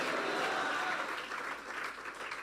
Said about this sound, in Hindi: यीशु की जोरदार तालियां बजा दो।